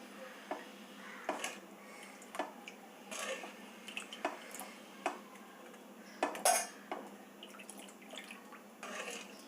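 Lemon juice is stirred into cooled sugar syrup in a pot, the spoon clinking and scraping against the metal in repeated uneven strokes, close and quiet, with a faint wet slosh between strokes and no voices.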